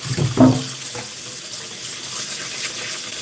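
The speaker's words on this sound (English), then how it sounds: "I gotta wash all these damn carrots" Carrots being washed under a running tap, a steady close stream of water splashing continuously after a brief louder burst at the start.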